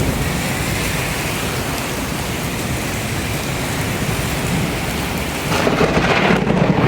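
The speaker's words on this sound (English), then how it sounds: "The thunder and the lightning in Fort Lee," Heavy tropical-storm rain from Elsa pours steadily in Fort Lee, New Jersey, a dense loud roar of rain with deep rolling thunder, swelling louder near the end, with no voices.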